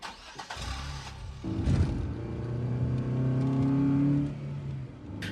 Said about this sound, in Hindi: वापस एक पहाड़ी पे गाड़ी दौड़ा दी